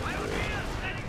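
Handheld anti-tank weapons firing during a WWII strategy video game match, a brief dense burst of booming blasts and explosions overlapping with a voice faintly underneath.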